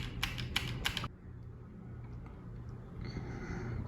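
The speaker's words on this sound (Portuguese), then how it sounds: "Vamos aqui, ó, pressionar a tecla F2. Eu estou com o teclado USB, pressionando até aparecer a tela do BIOS." The F2 key on a USB keyboard connected to a Lenovo IdeaPad S145 laptop is pressed four times in quick succession, sharp close clicks in the first second, followed by quiet room hum.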